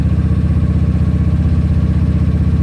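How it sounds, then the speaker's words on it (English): A GY6 scooter engine runs steadily at raised revs under throttle, a close, loud, continuous low droning hum with an even pulsing throb and no talk. "if I'm going clockwise, it roars the engine more"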